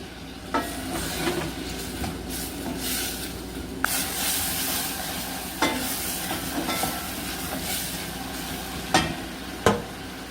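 Chopped onion sweating gently in a pan over low heat, a steady soft sizzle and hiss with occasional stirring scrapes and clinks, close by and alone.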